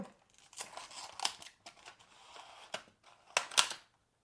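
Earbuds product packaging is opened with quiet crinkles, cuts and small plastic clicks, ending in a couple of sharper snaps near the close, faint and close-up with no talk.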